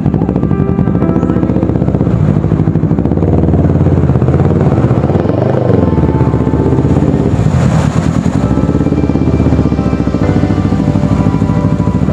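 A motorcycle engine runs loud and close, a rough, rattling drone that holds steady with a brief surge partway through.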